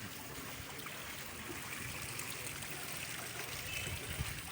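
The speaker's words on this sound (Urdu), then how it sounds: "گلیاں نالے بن چکی ہیں" Rainwater flowing through flooded residential streets after heavy rain, a steady low trickling and streaming wash that stays moderately quiet and continuous, with no talk over it.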